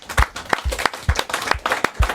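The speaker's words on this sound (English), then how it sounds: "And deserves a round of applause, I think." A studio audience gives a short, loose round of applause, with separate claps landing unevenly and slightly apart rather than forming a dense roar.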